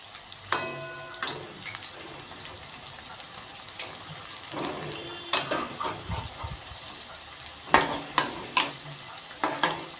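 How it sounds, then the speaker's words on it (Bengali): Oil sizzles and crackles steadily as vegetable pakoras fry over medium-high flame, with occasional sharp clinks and scrapes of a utensil turning them in the pan. "এখন আমি উল্টিয়ে দিচ্ছি মিডিয়াম টু হাই ফ্লেমে রান্নাটা করছি"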